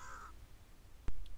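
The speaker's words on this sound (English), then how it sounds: "we're getting stared down by this crow" At a Texas farm pond, a crow gives a single sharp caw near the end after a quiet stretch with a faint earlier call, heard alone outdoors.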